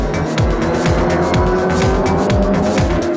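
Race cars in the first corner at the Nürburgring 24 hours, loud engines snarling and revving up and down close by as cars spin out, a dense overlapping roar with repeated rising engine sweeps.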